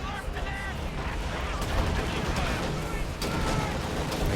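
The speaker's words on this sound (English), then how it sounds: "Scavenge artillery is being dropped" Artillery barrage in Company of Heroes 2, a Soviets versus OKW match, rumbling as a steady wall of booms and crackling gunfire throughout, with overlapping battle noise and a voice talking over it.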